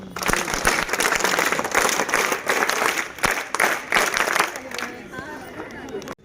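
Scouts and guides audience clapping together in welcome at a camp gathering, dense sustained applause that thins and fades near the end, with some crowd murmur beneath.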